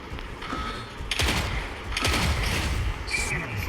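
Weapon fire from the mech combat video game Mech Arena, with dense overlapping bursts of shots and blasts swelling in a couple of loud waves over continuous battle noise.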